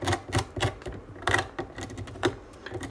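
Knife chopping fruit for a fruit salad, a quick run of close, crisp cuts landing in uneven bursts against a board, fairly quiet with no talking.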